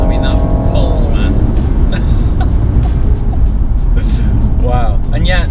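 A Rolls Royce Wraith Black Badge accelerating, its engine a deep muffled roar heard from inside the cabin under continuous talk, with a brief rising whine near the end.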